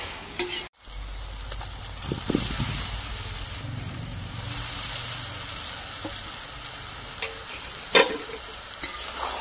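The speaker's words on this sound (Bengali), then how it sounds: "আলু ডিমের সাথে মশলাটা ভালো করে মিশিয়ে নেব।" Potatoes and duck eggs stirred into a fried spice paste with hot chili powder in a pan: a steady close sizzle broken by scraping, clattering stir strokes, with no talk.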